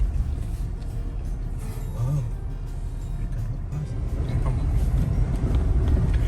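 Toyota Land Cruiser 76 series pickup driving over rough, nearly trackless terrain, a low steady engine rumble and cabin drone heard from inside, with someone talking intermittently over it.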